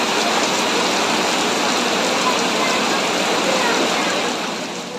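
Heavy rain pours down steadily outdoors, a dense, loud, unbroken wash of sound that fades slightly at the very end.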